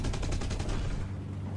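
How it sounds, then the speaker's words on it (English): Mk-108 aircraft cannons in War Thunder firing from inside the cockpit, a dense rapid burst of heavy booming shots over a deep rumble, loud and continuous for the whole stretch, gradually dulling toward the end. "Let's see what the cannons sound like from inside the cockpit."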